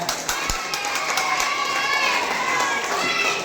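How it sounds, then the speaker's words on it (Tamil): Audience applause and cheering from a crowd at a children's charitable trust fifth anniversary celebration, a steady broadband wash of clapping with a few sharp claps and children's shouts mixed in, fairly close and continuous for a few seconds. "இப்போ என் பாய்ஸ்க்கு ஒரு கைத்தட்டல் கொடுத்துருங்க"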